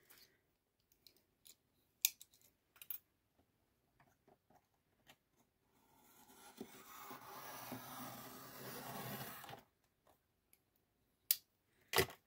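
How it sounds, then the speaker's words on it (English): Paper being cut into 1 inch strips with scissors: scattered sharp snips and clicks, then a longer steady sliding cut, quiet and close in an otherwise silent room. "I'm gonna cut it on 1 inch because that will be enough. 1 inch strips."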